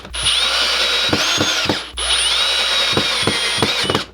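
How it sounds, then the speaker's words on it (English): A cordless power drill drives pocket hole screws into wood in two bursts, each a rising high whine with a few sharp clicks and knocks as the bit cams out, a short pause between runs, loud and close, no talk. "So I've adjusted my drill, and let's do it again."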